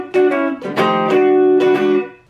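Electric guitar plays a Chicago blues box-shuffle rhythm on the 1 chord, with clean, ringing two-note shuffle figures in a bouncing pattern, loud and close with no talking.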